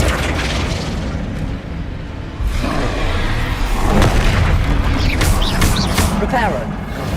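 A Flipendo spell cast in the Hogwarts Legacy video game lands with a loud booming burst amid ongoing game effects, followed by swishing magical sweeps and rumbling impacts, with a voice present.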